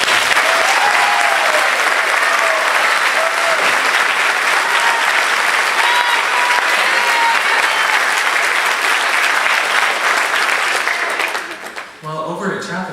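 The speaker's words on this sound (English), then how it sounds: "So can you give them a round of applause also?" A school concert audience with a high school band claps in loud, sustained applause for about eleven seconds before it fades out.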